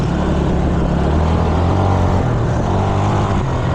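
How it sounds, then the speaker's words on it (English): Suzuki GZ250 motorcycle engine whining steadily while riding down a straightaway, a loud continuous drone with rising tone mixed with wind rush, no talking. "Hear that engine whine."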